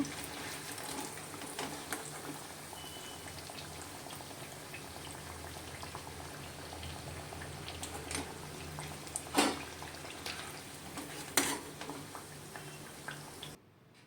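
Brinjal fritters (mattu gulla) frying in oil, a steady bubbling sizzle close by with a couple of sharper clinks or pops partway through, no voices.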